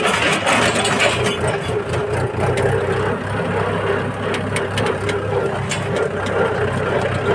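A tractor-driven groundnut thresher runs at a farm with a loud, steady engine drone and a dense mechanical rumble that holds unbroken throughout.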